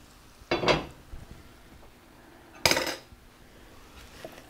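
A heavy pot of beef bourguignon, just out of a hot oven, is stirred with a metal utensil. Two distinct loud scraping clanks ring out against a quiet background.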